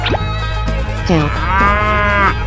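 A cow moos close and loud, a long resonant bellow swelling in the second half, preceded by a few shorter lowing sounds.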